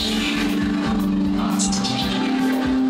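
Moog One synthesizer playing a Korg-style patch: a steady sustained tone with a bright shimmering layer and soft rhythmic pulses underneath, moderately loud and continuous for a few seconds.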